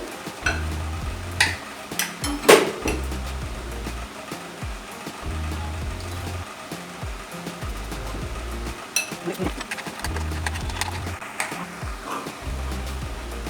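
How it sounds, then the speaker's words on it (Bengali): A batter for Amudi fish pakora, with a pinch of baking soda, is whisked steadily in a bowl, giving a continuous rhythmic stirring and slapping over a low background hum, with a few sharper knocks against the bowl. "এবারে এটা আমি গুঁড়ো ভালো করে ফেটিয়ে নিতে হবে"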